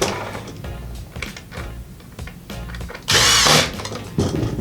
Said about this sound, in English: I'm gonna tighten up these body panels to the side of the MX8 again.